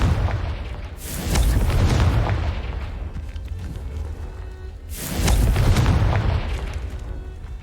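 Two deep, booming blasts of the Confringo spell in Hogwarts Legacy, spaced a few seconds apart, each rolling out loud and then fading, with no talk.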